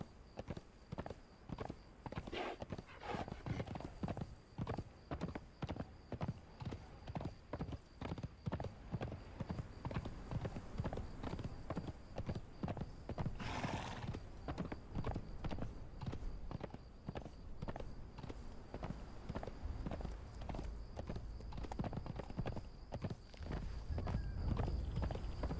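A horse in the Conan Exiles video game trots with loud, evenly spaced hoof clip-clops close by, the rapid beat continuing unbroken for the whole stretch with no talking.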